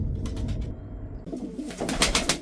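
Pigeons coo softly in a low repeated burble, with a few brief rustles nearby; no one speaks.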